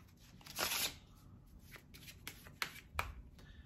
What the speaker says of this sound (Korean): 카드를 우선 잘 섞어주도록 하겠습니다.